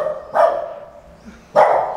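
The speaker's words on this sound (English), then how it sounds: "This dog is scared of me." A nervous dog barks twice, loud and close, each a single sharp bark about a second apart, with no talk over them.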